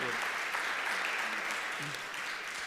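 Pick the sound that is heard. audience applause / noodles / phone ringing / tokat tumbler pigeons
audience applause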